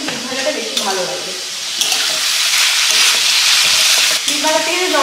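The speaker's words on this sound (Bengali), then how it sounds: "আর এদিকে মাছ ভাজাটা তো হচ্ছে, ফাটাফাটি আরম্ভ করবে" Beetroot and pangas tengra fish frying in hot oil, a loud continuous sizzle that swells and holds steady, with someone speaking over the start and end.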